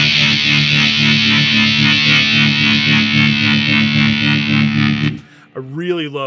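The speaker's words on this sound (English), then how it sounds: "phase mode when you're using distortion or fuzz, because it really gives you this cool modulation within the fuzz" Heavily distorted fuzz guitar chord through a SolidGold FX Aurras optical vibraphase pedal in phase mode sustains loudly with a sweeping phaser swirl moving through it, then cuts off into a brief wobbling tail.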